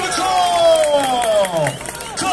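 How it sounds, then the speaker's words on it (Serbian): Spectators at a bull-fighting contest between two bulls shout and cheer together, one loud drawn-out voice rising above the steady crowd noise for a couple of seconds. "Čujemo povike."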